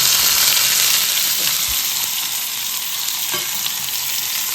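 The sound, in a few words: chopped tomatoes frying in coconut oil with mustard seeds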